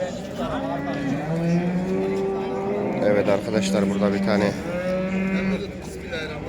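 Cattle moo with drawn-out, tonal calls at a busy livestock market in Yıldızeli, Sivas, Türkiye, close and loud, while someone talks over them throughout.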